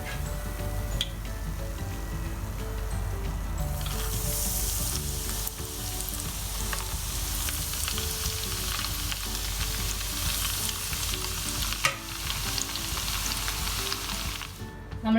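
Onion rings in a thick coating deep-fry in hot oil, giving a steady, dense sizzle and crackle that runs on without a break, close and fairly loud.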